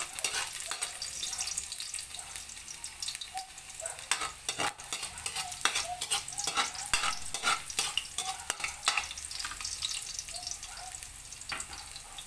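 Garlic fries in hot cooking oil with a steady, close crackling sizzle and the clatter of stirring throughout, while a single short spoken word comes through.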